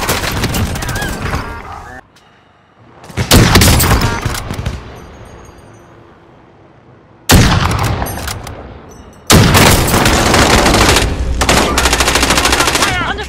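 Bursts of automatic weapon fire in the video game Warzone, loud rattling volleys broken by short quieter gaps, then near-continuous sustained fire toward the end.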